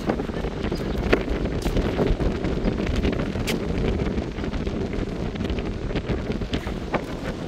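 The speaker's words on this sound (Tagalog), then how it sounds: "Sobrang hangin." Strong wind roars and buffets the microphone continuously at a beach resort in Calatagan, Batangas, a loud rumbling gust with faint crackles and no voices.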